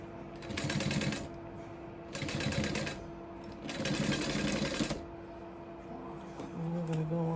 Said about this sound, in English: we're gonna do the 4/4 seam allowance, back stitching